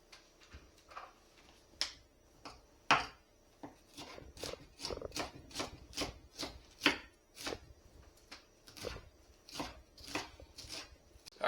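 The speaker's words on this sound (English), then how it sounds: "Alright, now we get all the vegetables chopped up." Knife chopping onions and vegetables on a cutting board for chili, a steady run of crisp, close chops with uneven rhythm, quiet room and no talking.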